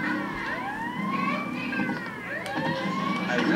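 An ambulance siren in the Grand Theft Auto video game wails in rising and falling sweeps, repeating over a low rumble of traffic, fairly close and continuous throughout.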